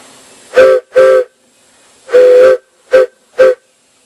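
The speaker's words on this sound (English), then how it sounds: "if I blow this just regular blow out of my mouth, it doesn't have a real harsh sound like it does when it has 40 pounds of pressure" A wooden steam whistle blown by mouth gives five short, soft hoots in an uneven rhythm, each a breathy, hollow tone with brief silences between them.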